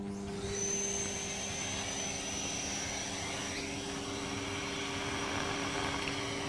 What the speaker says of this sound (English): You turn your vacuum cleaner on.